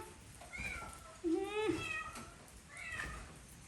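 Several cats meow inside an abandoned house, four or five distinct mews in quick succession, close and clear, with one louder drawn-out cry in the middle.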